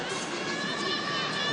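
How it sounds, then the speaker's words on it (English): A loud arena crowd at a Bellator MMA prelims card, a dense continuous roar of cheering and chatter filling the space evenly, with no clear pauses. "this crowd has been really loud throughout the prelims"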